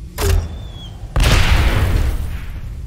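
A grenade in Aliens: Dark Descent goes off: a short thump, then a loud, close boom about a second later that rolls on into a fading rumble.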